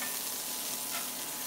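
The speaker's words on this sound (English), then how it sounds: "I'm gonna give these a little stir in here with a little hamburger fat" Onions and mushrooms frying in hamburger fat, a dense, steady hiss and crackle close up as they are stirred in the pan.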